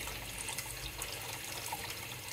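Steady, faint hiss and gurgle of water running into an appliance during filling, continuous and fairly distant with no talk over it.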